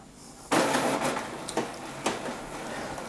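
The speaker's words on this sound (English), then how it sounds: "Printer's just waking up," A Canon PRO-300 printer starts up to print, giving a sudden mechanical whir and rumble followed by a few clicks and knocks as its parts move, fairly close and with no talking.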